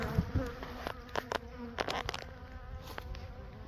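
Steady insect buzzing from honeybees around a hive, with brief louder passes as individual bees fly close by the microphone.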